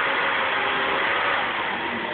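An Opel Senator with the C30SE 3.0 24v engine runs under load during a test drive, giving a steady, dense mechanical drone with road noise that holds at an even level without distinct rev changes.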